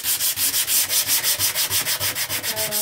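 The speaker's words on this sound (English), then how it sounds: "And I'm just using 150 grit sandpaper, and I'm just going to do it by hand." Hand sanding a concrete countertop surface with 150 grit sandpaper, a loud close rhythmic scratching of about fifteen even back-and-forth strokes, with no voices.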